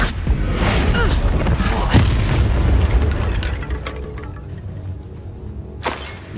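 A Confringo spell explodes in Hogwarts Legacy with a loud boom and crackle. The sound fades into a rumbling tail, broken by a few sharp pops.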